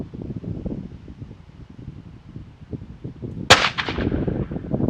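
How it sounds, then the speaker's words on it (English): A single sharp .204 caliber rifle shot fired at a target, a loud crack with a short decaying tail standing out over quiet outdoor background noise. "I'm just going to shoot at the #1 target again"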